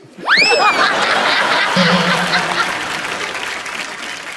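A studio audience on a comedy talk show bursts into loud, sustained clapping right after a quick swooping sound effect, and the applause tapers off only slightly by the end.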